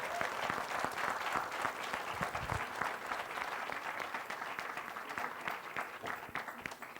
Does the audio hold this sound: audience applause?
yes